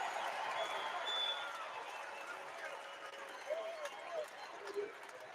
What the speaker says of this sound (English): the crowd rises once again.